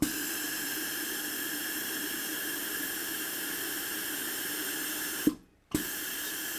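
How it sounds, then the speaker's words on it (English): A high-pressure, high-volume hat shaper fed by a boiler releases a loud steady jet of steam, hissing continuously before cutting off abruptly near the end and then bursting back on. "a high pressure, high volume hat shaper. The steam it produces is a lot more and a lot hotter."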